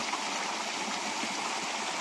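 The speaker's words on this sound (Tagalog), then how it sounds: "Maambak ang tubig." Constant rushing of water pouring hard, like a stream spilling over rocks, steady and fairly close with no voices.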